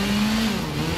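A car accelerating in the video game Gotham Knights, its engine a steady mid-pitched drone that dips slightly partway through one brief, continuous burst with no talking.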